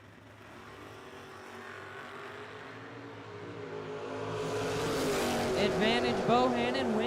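Drag race cars, a Camaro and a Chevy Nova, at a vintage drag racing event, engines building from a distant rumble to a louder roar, with an announcer's voice over the PA.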